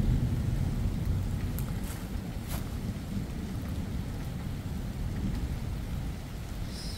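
Rain from the remnants of a thunderstorm patters steadily and densely up close, with a low rumble underneath and a few sharp drops standing out.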